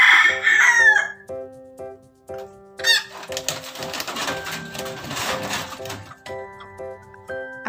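A rooster crows in a backyard chicken coop, a bright call opening the clip and another a few seconds later, with a soft rhythmic clucking and rustling in between.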